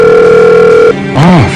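A telephone rings in a radio drama, a steady electronic tone holding for about a second before a short warbling, swooping ring follows, loud and close.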